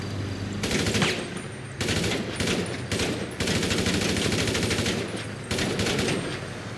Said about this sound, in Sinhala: තුවක්කුවෙන් ඉතින් වෙඩි තියලා බලමු බලන්න